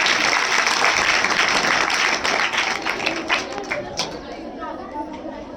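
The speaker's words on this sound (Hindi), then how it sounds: "जोरदार तालियों के साथ उनका स्वागत करेंगे।" Audience applause welcoming an honored guest at a Hindi women's day program, dense steady clapping that gradually thins and fades, with some crowd chatter underneath.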